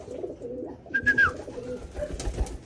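Pigeons coo softly in a few short low phrases during recall training, joined by a brief higher chirp and some light rustling, with no talk over them.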